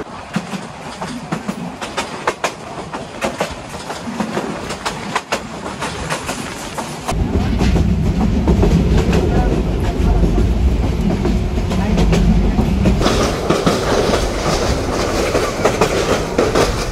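The Mohanganj Express, on the Dhaka to Mohanganj run, rolls along the rails with a steady rumble and rhythmic clatter. The sound is heard from on board and grows louder about halfway through, with faint voices at times.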